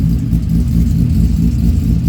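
2012 Mustang GT fitted with a Cobra Jet intake idling on a dyno, a loud, deep, lumpy engine rumble with a steady uneven chop, close up and continuous.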